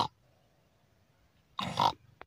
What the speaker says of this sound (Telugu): ఏ ఇక్కడ పంది మొత్తుకున్నట్టు అనిపిస్తుందిరా